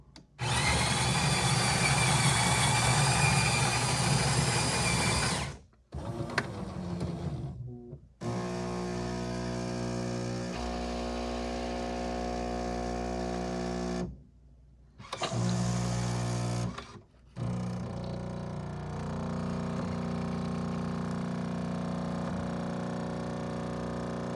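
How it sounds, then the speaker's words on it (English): A Jura Z6/Z8 coffee machine makes an espresso: a loud whirring grind for several seconds, then a steady pump hum with short pauses and a second burst of noise, all close and alone. "I'm going to make an espresso."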